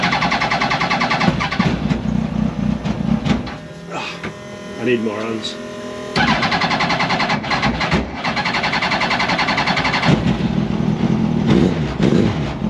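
A Yamaha R1 motorcycle engine, fitted in a spaceframe Mini racecar, cranks and fires up cold. It runs loud and buzzy throughout with a brief dip partway, and people speak over it.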